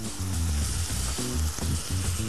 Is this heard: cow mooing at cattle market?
no